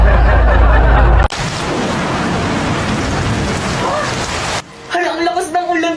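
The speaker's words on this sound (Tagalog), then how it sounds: "Hala, ang lakas ng ulan." Heavy rain pours down in a steady loud hiss for several seconds, starting after a sharp cut and ending abruptly, followed by brief voices.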